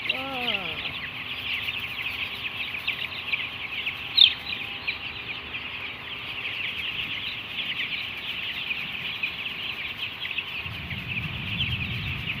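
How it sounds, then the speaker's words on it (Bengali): Three-day-old broiler chicks peep in a dense, continuous high chorus that fills the whole stretch at a steady level, with a brief voice near the start and a low rumble toward the end. "সবাই মুরগির বাচ্চা 3 দিনের ভিতরে দেখেন ভাই"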